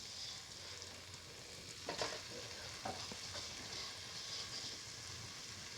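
Marinated cottage cheese pieces go into a hot pan for a cheese fenugreek rice bowl, giving a steady soft sizzle with a few brief clatters as they land, fairly quiet and close.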